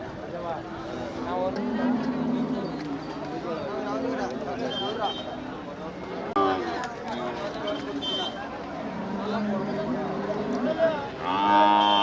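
Cattle moo repeatedly at the Manapparai cattle market, long bellowing calls overlapping each other, some close and loud, against a busy outdoor crowd with people talking throughout.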